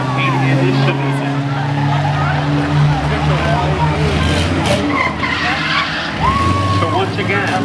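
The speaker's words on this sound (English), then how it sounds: "And you hear the squeal. You need good brakes to compete in this division." Race car tires and brakes squeal loudly in long skidding bursts at a speedway short-track event, engines roaring near throughout, with a fresh squeal near the end and a commentator talking over it.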